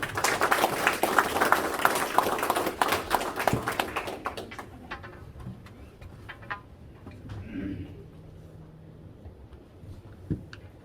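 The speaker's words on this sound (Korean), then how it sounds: "큰 박수로 부탁드리겠습니다." Brisk applause from an audience at a district council opening ceremony fills the first four seconds, then fades to scattered claps and quiet room noise.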